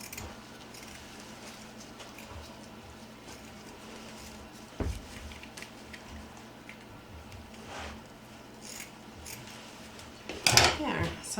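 Scissors snip through a folded strip of burlap, a short loud crunching cut near the end following quieter rustling and handling, with a muffled thump midway.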